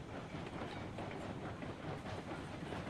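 A train rolls along railway tracks in the Railroads Online video game, producing a steady, faint rumble with soft clickety-clack of wheels over rail joints and no talk.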